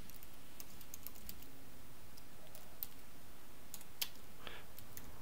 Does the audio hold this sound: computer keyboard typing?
yes